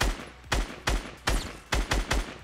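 Double barrel shotgun fire in Fortnite: six heavy, booming blasts spaced in uneven pairs across two and a half seconds, loud and close, each blast trailing off into a short rumble.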